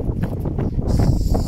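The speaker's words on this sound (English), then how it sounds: "It's a bit windy today, but it's fine." Steady wind on Avşa Island buffeting the microphone, a low rumbling roar with gusty swells and rustling noise, fairly loud and close throughout.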